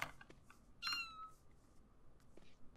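A cat in The Sims 4 gives a short, bright meow alongside a few soft chirps and clicks, fairly quiet and otherwise set against near silence.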